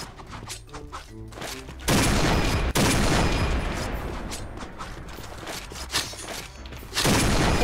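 Gunfire in the online shooter Point Blank, dense bursts of rapid shots and mechanical clatter filling most of the stretch, loud and sustained with brief gaps.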